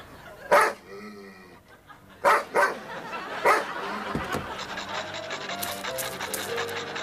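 A police dog barks loudly and close in several sharp bursts, followed by panting and yipping with other scuffling noise.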